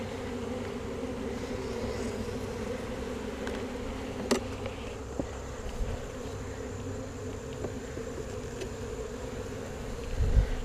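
Honeybees in a hive box drone loudly and steadily while frames are moved around during an inspection of a queenless colony, with occasional soft knocks and clicks of the wooden frames over the buzz.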